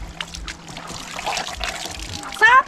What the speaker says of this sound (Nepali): पुरा पाइपको पानी आयो है यहाँ